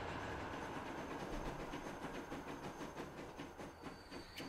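A train runs steadily in the Transport Fever 2 video game, a loud continuous rumble with rhythmic clickety-clack wheel beats throughout and no talking.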